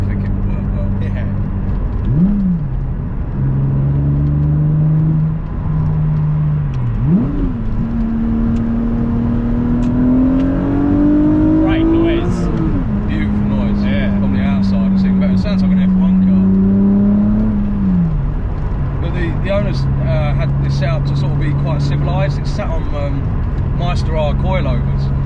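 A Toyota MR2 with a V6 engine pulls hard in first gear, its engine note climbing in rising sweeps, dropping at each shift, then settling into a steady drone, loud and close with people talking over it.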